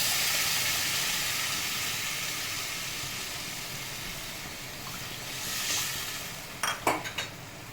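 Water poured into a hot pan of rice for a vegetarian rice and pointed gourd dish gives a steady broad hiss and sizzle, with a few sharp clinks of a pan or utensil near the end.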